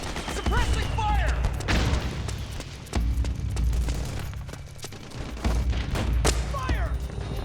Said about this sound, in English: Need backup! Suppressing fire!